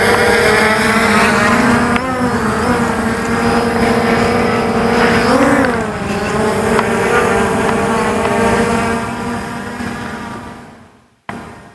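A small camera drone flies close by with a loud, steady propeller whine whose pitch rises and falls as it manoeuvres, with a brief swell near the middle before the sound cuts away at the end.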